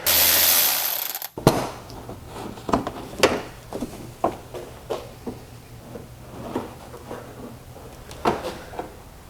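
A hand ratchet works an 8 mm bolt loose on a BMW E92 335i. A burst of clicking ratchet strokes comes close and fairly loud, with small metallic taps and handling noises between them.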